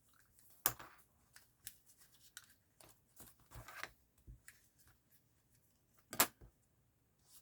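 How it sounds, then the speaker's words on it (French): Thin book-page paper is cut for a paper flower: a quiet series of short, crisp snips spaced irregularly, with no voices. "Ça, on va le découper."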